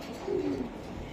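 A pigeon, one of the Hungarian Budapest birds at a wholesale pigeon seller, gives a single soft, low coo nearby against quiet background noise.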